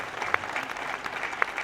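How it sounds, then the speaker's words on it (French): Audience at a business awards evening applauding the year's trophy winners, a steady wash of clapping throughout with a couple of sharper claps standing out. "que l'on peut applaudir une nouvelle fois."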